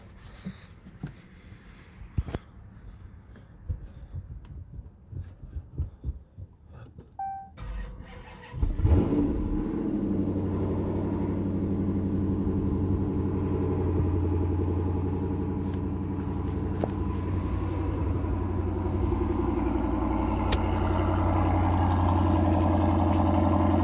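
A 2015 Dodge Challenger fires up after scattered handling noises, then settles into a steady, loud, close rumbling idle with occasional light revs for the rest of the run, no voices over it.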